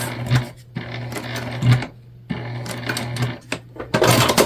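A sewing machine bastes fabric for a small cross body bag, running in close, loud rapid stitching bursts separated by short pauses, with a steady mechanical whir throughout.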